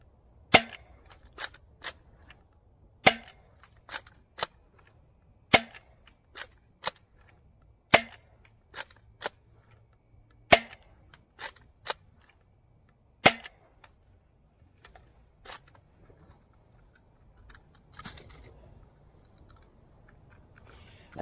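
Sharp, loud snapping shots from a DZP Mk 2 dart blaster firing Koosh Gen 3 cutdown darts, about fifteen cracks in irregular bursts with quiet gaps, faint mechanical clicks between them.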